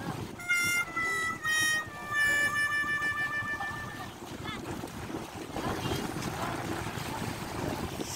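Strong wind buffets the microphone at a seaside fishport in General Santos, a steady rushing roar with low rumble throughout, while a tonal whistle or call sounds in the first few seconds.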